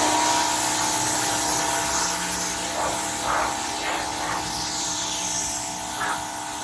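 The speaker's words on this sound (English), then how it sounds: "So I'm going to hose this thing down." A water hose sprays down a chrome-covered car, producing a continuous broadband hiss of water with small shifts in pressure and spatter, fairly loud and close, with no talking.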